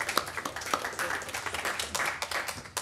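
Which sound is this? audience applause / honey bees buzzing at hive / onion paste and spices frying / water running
audience applause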